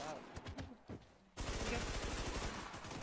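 Video game match gunfire: a few scattered shots give way to a dense, sustained burst of rapid automatic fire, loud and close, with voices heard early on.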